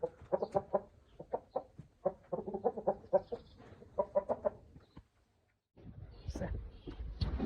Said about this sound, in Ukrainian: Півень такий гарний, ручний, дивіться.